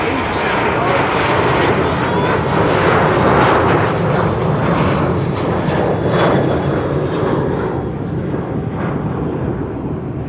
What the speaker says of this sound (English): the airplane to Lima in Peru is taking off